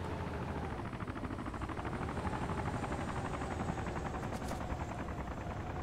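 A helicopter in the DayZ mod video game flying overhead, a steady loud chopping rotor drone that fills the whole clip without pause or talk.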